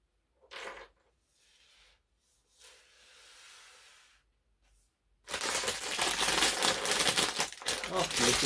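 Loud, continuous crinkling of a plastic bag being opened during a LEGO Minecraft modern treehouse set build, following quieter rustles and a short burst earlier.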